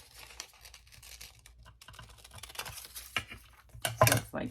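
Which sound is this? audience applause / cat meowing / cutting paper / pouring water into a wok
cutting paper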